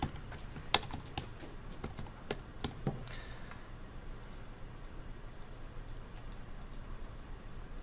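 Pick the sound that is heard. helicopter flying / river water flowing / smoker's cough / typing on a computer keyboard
typing on a computer keyboard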